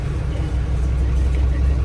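A car drives on a road in Cuba, heard from inside as a steady low engine and road rumble, with some background voices.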